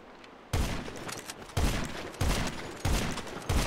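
Sniper rifle in the video game GTA fired rapidly through a macro: five loud, booming shots at roughly 0.6-second intervals, each cracking sharply and ringing on until the next.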